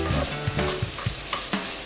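Pumpkin fries in a pan while being stirred, the continuous sizzle broken by a quick series of scraping strokes about every quarter second, close and loud, with no voices.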